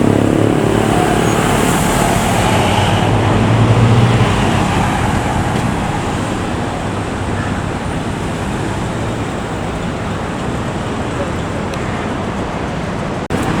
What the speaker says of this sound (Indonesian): Oke, ini adalah bus free, Pak.